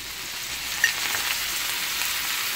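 Garlic fries in a pan as two tablespoons of vinegar go in, giving a steady close sizzle with a brief splashy spike as the liquid hits the oil. No one speaks.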